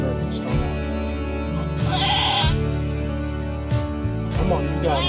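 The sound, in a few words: Kiko goat bleating while giving birth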